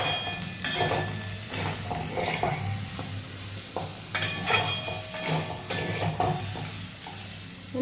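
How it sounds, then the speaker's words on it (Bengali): Onion and chicken fry in a pan for a chicken roll, with constant sizzling and repeated scraping and stirring of a utensil against the pan. "পেঁয়াজটা দিয়ে আবার একটু ভাজা ভাজা করবো।"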